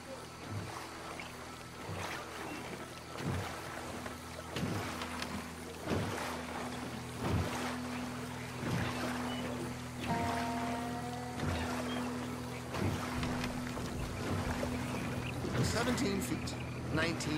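A 12-foot skiff gliding through bayou water in Red Dead Redemption 2, with soft, regular paddle strokes and gentle water lapping under a low engine-like hum, while people talk over it.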